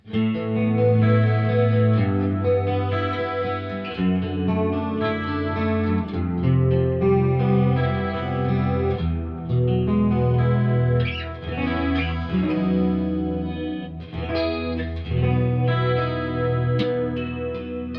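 An electric guitar with a thin, split-coil tone plays shimmering chords and melodic lines, washed in chorus and effects, steady and moderately loud.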